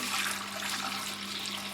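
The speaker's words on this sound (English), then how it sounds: "And I'm going to pour the milk in." Milk pours steadily into a non-stick pot as part of making homemade yogurt, a continuous liquid rush with a low hum underneath, fairly close and with no talking.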